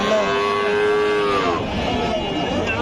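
A large calf at a cattle market in Dupchanchia gives one long, loud, close moo that fills the moment, with no one speaking.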